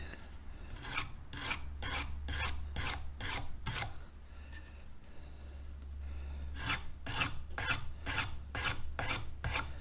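An edge is sharpened on the edge of a stone in a series of quick rasping strokes, with about seven in a rhythmic run, a short pause, then another steady burst, close and fairly quiet with no talking.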